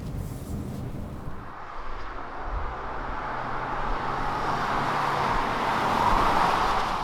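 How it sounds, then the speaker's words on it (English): A SsangYong Korando SUV cruising on a highway, heard from inside as a steady broadband road and engine rumble that slowly builds in loudness, with no talking. "Right now we're driving on the highway with new Korando"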